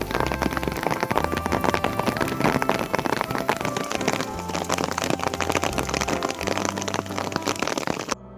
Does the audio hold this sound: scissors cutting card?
no